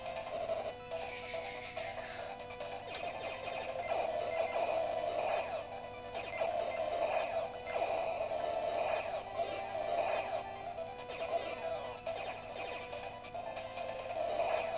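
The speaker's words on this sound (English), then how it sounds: "the Virtual Boy uses motors to spin around mirrors to make the 3D effect" A Nintendo Virtual Boy's internal motors spinning mirrors give off a steady, continuous electronic hum with a mid-pitched tonal drone, faint and constant throughout, with light clicks and handling noise layered on top.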